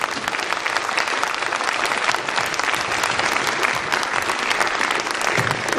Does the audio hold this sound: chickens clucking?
no